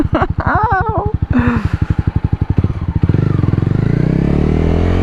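A motorcycle with an open exhaust, its silencer removed, idles in loud, throbbing pulses, then revs up into a fast, rough drone, close by with a brief voice over it.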